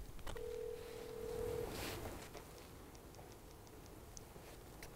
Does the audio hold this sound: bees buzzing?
no